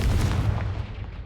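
A heavy booming blast from the Confringo fire spell in Hogwarts Legacy, a deep close explosion with a rumbling tail that fades out.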